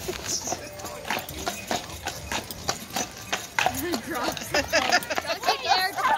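Horse hooves clip-clop at a trot on a New Year's Eve ride, a steady close rhythm with occasional whinnies, heard under lively nearby chatter and background babble.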